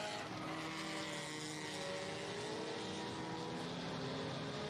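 Race cars in the sport division roar past on the Irwindale Speedway oval, a dense, steady wall of engine noise that stays loud and close throughout with no pause.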